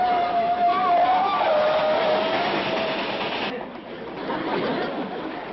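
A steam locomotive train rumbles along with a clattering roll, and a high whistle-like tone sounds briefly near the start before the noise thins out.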